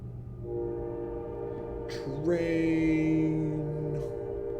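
A train horn in a Magic card game sounds one long, loud sustained blast that swells midway and holds to the end, heard alone with no speech.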